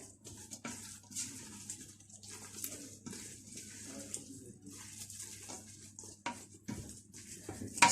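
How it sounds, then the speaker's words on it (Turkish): Cabbage and kidney beans stirred in a pot with a spoon make soft, irregular scraping and clinking against the pot, fairly quiet and close. "Şimdi karıştıralım güzelce."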